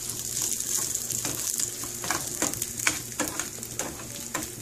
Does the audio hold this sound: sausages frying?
yes